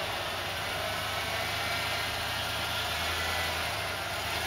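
An off-road vehicle engine drones low and steady while climbing the rocky Chinaman Gulch trail in Colorado, a constant close hum with broad wind-like noise and no talk.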